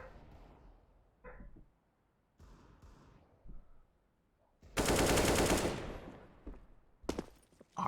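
Counter-Strike match gunfire: a few scattered single shots, then a loud sustained burst of automatic fire, followed by more sharp shots near the end.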